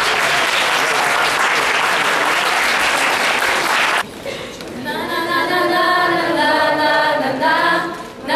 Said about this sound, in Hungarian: És nagy tapsot!